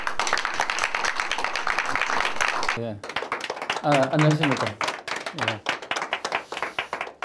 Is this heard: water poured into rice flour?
no